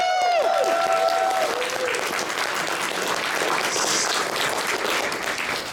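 A pony expo's closing ceremony crowd breaks into sustained applause, dense steady clapping filling the hall, while a brief whistled or sung tone rises over it at the start.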